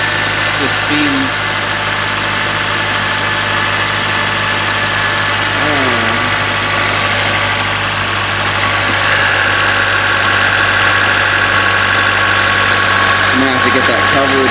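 Turbocharged Honda K24 four-cylinder engine idling steadily and loudly up close, a constant drone with a high whine appearing partway through, and a voice talking faintly over it.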